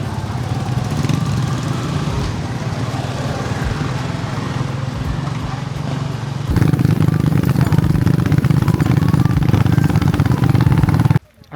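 A motorcycle engine drones steadily and loudly while riding to the next spot on an island trip, its note rising and thickening as it speeds up, with wind rush and some faint voices underneath.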